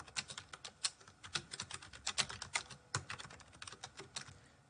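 A message is typed on a computer keyboard: rapid, irregular key clicks close by, steady for several seconds with no voices.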